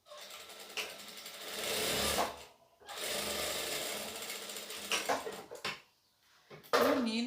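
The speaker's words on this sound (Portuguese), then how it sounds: "E nós vamos passar uma costura unindo essas 2 partes." A sewing machine stitches two fabric pieces together in bursts of steady, fast mechanical whirring, broken by short pauses, close and clear with no talk over it.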